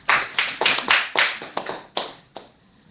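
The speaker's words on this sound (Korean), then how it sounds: "박수 부탁합니다" A small indoor audience claps at a presentation, a handful of sharp, uneven bursts of hand claps that taper off within a few seconds, close and fairly loud with no talk.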